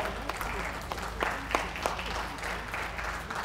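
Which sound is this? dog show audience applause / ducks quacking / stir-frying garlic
dog show audience applause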